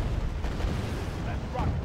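Artillery firing in the Wargame: Red Dragon strategy game, a dense rumble of distant booms and blasts running steadily under a player's voice.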